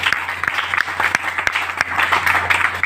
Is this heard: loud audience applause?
yes